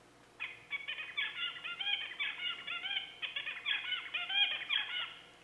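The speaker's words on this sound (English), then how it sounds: "I'm going to play the tutor song again for you," Recorded tutor song of a male songbird, the father's song, plays back as a continuous run of clear, rapidly repeated warbled and whistled phrases, fairly close and heard alone.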